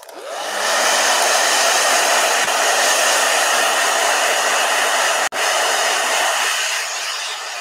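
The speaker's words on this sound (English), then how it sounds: "I'm going to give one last blow dry." Hair dryer blowing steadily and loudly on a painted travel journal page, a continuous close whoosh with one brief cutout near the end, no talking.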